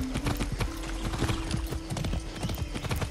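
Horse hooves clip-clop in Far Cry 6, a steady, close rhythm of quick hoof strikes with a faint snort or whinny mixed in.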